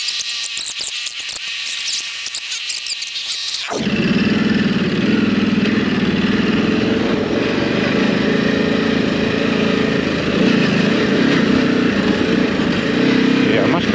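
A Ducati Desert X motorcycle engine drones steadily while riding, a loud sustained exhaust note with rising and falling revs that takes over after a few seconds of sharp wind-buffeted noise.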